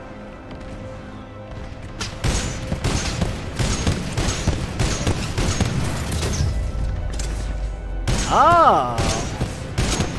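Gunfire from a gun in Titanfall 2 rattles in rapid, uneven bursts of sharp close shots for several seconds, then a voice exclaims briefly near the end over continued game noise.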